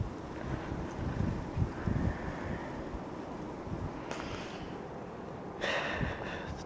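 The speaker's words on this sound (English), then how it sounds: "Oh, I hear a gust coming," Cold, gusty wind buffets the microphone outdoors in winter, a steady broadband rush with swelling gusts and no speech over it.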